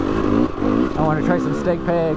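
A dirt bike engine labors steadily uphill on a wet trail near Revelstoke, British Columbia, its rising and falling revs droning loudly under a rider talking close to the microphone.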